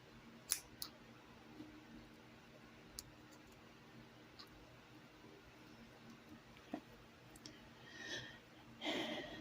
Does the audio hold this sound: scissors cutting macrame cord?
yes